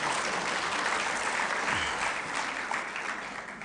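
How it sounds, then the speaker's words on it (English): Sustained applause from an audience at the official opening ceremony of the 19th Session of the ARIPO Council of Ministers, steady and full for several seconds before slowly tapering off. "a round of applause"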